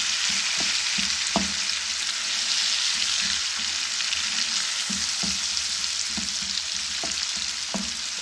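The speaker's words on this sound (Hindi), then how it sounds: "इसको हम इतना भूनेंगे कि ये टमाटर मैश हो जाए" A steady loud sizzle of tomato masala frying in a pan, with occasional scrapes and taps of a spoon stirring; no voices.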